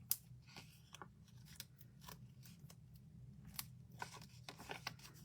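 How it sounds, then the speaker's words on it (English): Scissors snip through paper dimensional adhesive pads during a card-making class, a quick run of crisp, light cuts at close range, quiet and irregular with no talking. "Let me just snip these so we can use them."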